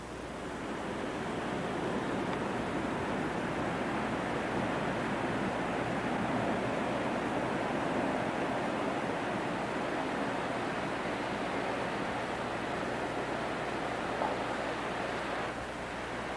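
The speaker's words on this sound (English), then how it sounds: "this is one of those waves going out from it" Ocean surf on an Alaskan beach as the tide comes in, a broad continuous roar of waves washing the shore, steady and fairly loud with wind-like hiss and no talking.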